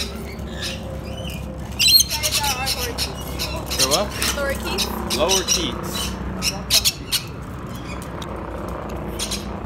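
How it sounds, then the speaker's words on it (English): Several birds squawk and chirp in short bursts nearby in an aviary at an ostrich ranch, while people talk over them and the calls come and go. "so we're in the bird aviary."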